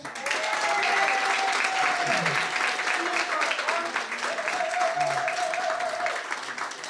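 An entrepreneurial meet-up crowd in Las Vegas applauds the host with steady, sustained clapping, mixed with cheering and a voice calling out over the dense crowd noise.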